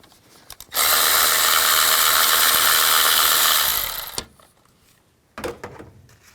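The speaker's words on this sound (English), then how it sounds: "Take this bolt out, use a 10mm socket." A ratchet with a 10mm socket backs out a coil bolt on a 2003-08 Nissan Maxima during a spark plug job, a loud, close, steady clicking run lasting about three seconds, followed later by a brief clatter.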